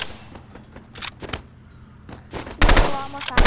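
Rapid bursts of gunfire from a burst weapon in the shooting game Rivals, several short volleys of crisp shots that swell louder and denser toward the end.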